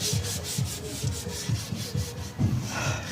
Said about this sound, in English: Needs to be sanded down.